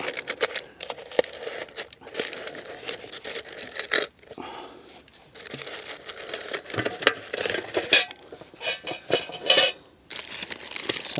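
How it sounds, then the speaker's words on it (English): A lid comes off a cooking pot and food is dished out onto plates at an outdoor on-the-go cooking setup, with scattered clinks, scrapes and rustles at close range in an irregular rhythm, with brief quieter pauses. "Take my lid off. Just dish him up on the table."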